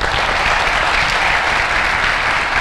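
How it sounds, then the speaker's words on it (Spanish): Audience applause at a school talk, a dense, steady wash of many hands clapping that holds at full strength without a break. "vamos a darles un aplauso a Dios"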